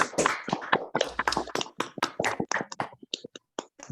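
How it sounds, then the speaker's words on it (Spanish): Applause from participants on a Zoom call for an invited guest after a talk on financial indices, a dense run of claps and taps through remote microphones, close and fairly loud, thinning out toward the end. "Les invitamos a todos a poner su micrófono y dar un aplauso"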